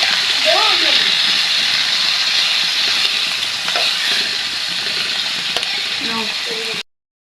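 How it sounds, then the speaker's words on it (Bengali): Bitter gourd and potatoes stirred in a hot pan with a steady close sizzle and frying hiss, brief scrapes of the spatula, and a voice faintly under it, ending abruptly. "করলার সাথে আলু এখন আমি দিয়ে দেব একটু নেড়ে চেড়ে নেব"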